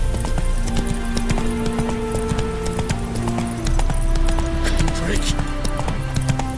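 Roach, Geralt's horse in The Witcher 3: Hearts of Stone, clip-clops at a steady trot with a whinny partway through. Game music and a voice run underneath the hoofbeats.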